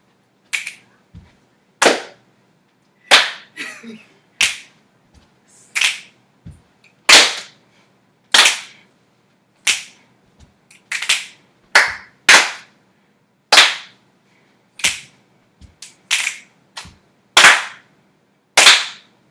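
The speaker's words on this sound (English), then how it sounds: "Stomp, stomp, snap, stomp, clap, clap." Body percussion pattern of stomps, snaps and claps, sharp dry hits repeated in a steady rhythmic cycle with short gaps between, close and clear with no voices.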